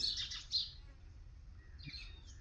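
Faint high chirps from sparrows and pigeons in a well, a burst at the start and another near the end, echoing softly over a quiet low rumble.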